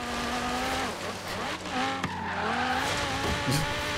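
Car engine revving hard in Forza Horizon 3, pitch climbing and dropping through gear changes, with tires squealing and skidding near the end; loud and steady throughout.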